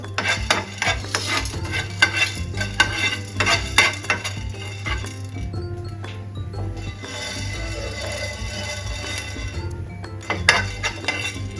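Pepper and spices dry-roast in a pan for puliyogare paste, a spoon stirring and clinking against metal in bursts with faint sizzling and rattling grains between.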